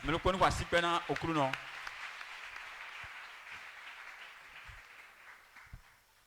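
A church congregation applauds as a diffuse wash of clapping that swells after a preacher speaks, then fades gradually, fairly distant in a reverberant hall.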